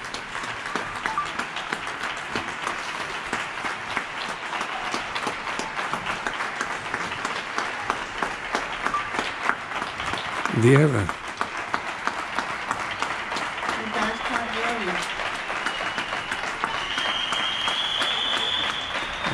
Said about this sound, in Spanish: Aplausos generalizados